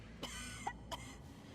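A couple of short, dry coughs from a character in Cyberpunk 2077 sound alone against a low, quiet background hum.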